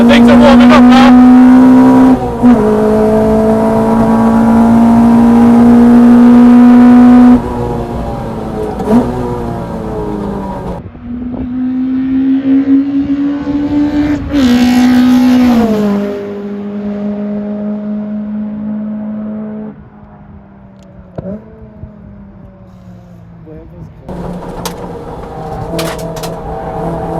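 A Renaultsport Clio Mk3 R27 with individual throttle bodies, rated at 250 bhp, runs at speed on a race track, heard from inside the car. The engine drones loudly, then shifts, revs and lifts off, and people talk over it.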